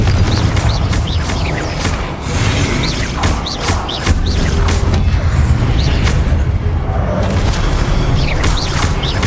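Repeated booming fire-spell blasts from Confringo in the video game Hogwarts Legacy, cast again and again over a constant rumbling bed of game noise and effects.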